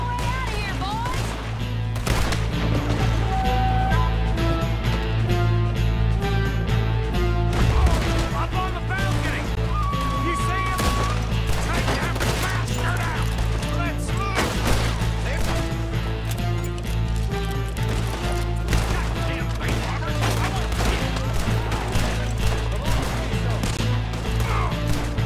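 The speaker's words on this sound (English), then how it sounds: "We're shooting our way out of here, boys!" Gunfire crackles through a shootout during a bank robbery in Valentine in Red Dead Redemption 2, with sharp shots popping steadily over a dense, loud bed of game music and noise.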